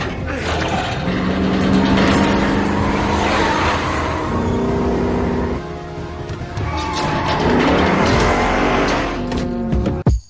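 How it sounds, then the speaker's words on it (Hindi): A car in a video game strains as it is pulled from all sides, engine whining and rising in pitch with tire squeal and skids, loud and close, then cut off abruptly at the end. "भाई चारों तरफ से लिटरली उसकी गाड़ी को खींचा जा रहा है बुरी तरह से"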